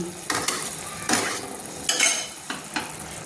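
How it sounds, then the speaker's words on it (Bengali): Marinated hilsa fish pieces go one by one into a pan for mustard hilsa, giving a steady frying sizzle broken by several sharp scraping and clattering knocks, close and fairly loud, with no talking. "সেই ম্যারিনেট করা মাছগুলো আমি দিয়ে দিচ্ছি"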